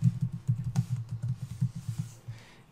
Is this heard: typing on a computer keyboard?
yes